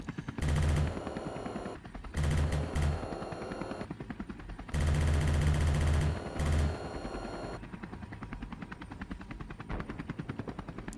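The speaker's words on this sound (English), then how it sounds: "That's a tank firing that you can hear." A tank fires in a helicopter combat video game with ground infantry: loud, sustained bursts of booming gunfire that come in several blasts, broken by quieter stretches of rumbling battle noise.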